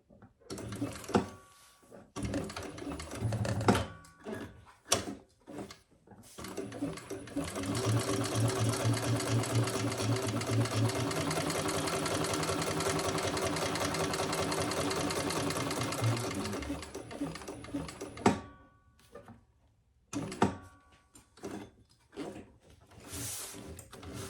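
A sewing machine stitches a leather crossbody bag, running in a steady, fast mechanical chatter for about ten seconds, framed by a few short starts, clicks and handling noises.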